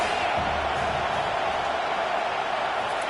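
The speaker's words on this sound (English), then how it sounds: "Decibels rising as the crowd gets behind this defense on third down." A football stadium crowd roars steadily on a third down, a dense, loud wash of cheering that stays constant throughout.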